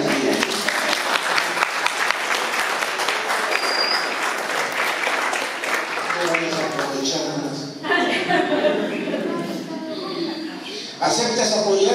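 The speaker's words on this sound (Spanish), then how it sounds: "Un aplauso para ti." Guests applauding at a wedding ceremony, brisk close clapping that carries through most of the stretch, thinning at times as voices speak over it.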